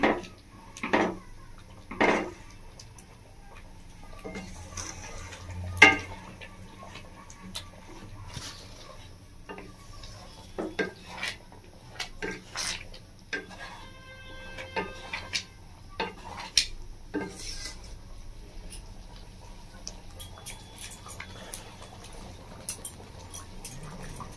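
A spoon stirs vegetables into rice and lentils in a pot while cooking fish khichuri: intermittent scraping clinks and knocks of metal on the pot at an uneven pace over a quiet, low background.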